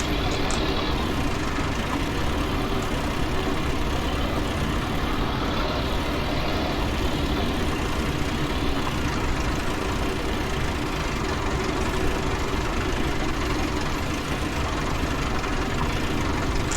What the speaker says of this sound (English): A bit of oversteering with the tractor there.